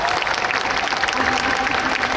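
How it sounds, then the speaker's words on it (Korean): Audience applause for an actor at a Busan International Film Festival open talk stage event, a dense steady wash of clapping at moderate distance, with faint voices mixed in. "오승훈 배우님께도 박수 부탁드리겠습니다"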